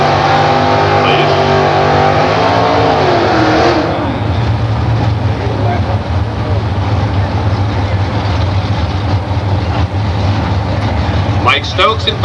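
Competition eliminator drag race cars roar at high volume as they accelerate at the 1994 Commerce NHRA event, a dense, sustained engine blast that rises in pitch and then holds as a loud rumble. An announcer talks over it.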